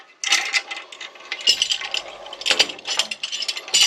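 A double ratchet wheel lever winch clicks and rattles as it is handled, with bursts of sharp metallic pawl clicks and clinks in an irregular rhythm, close and fairly loud.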